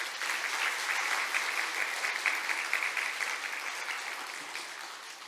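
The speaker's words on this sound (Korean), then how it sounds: "오신 분들 박수 한번 주세요." A church congregation claps for visiting elderly guests during a Sunday morning worship service, a dense, sustained wash of applause that stays even and loud before easing off slightly at the end.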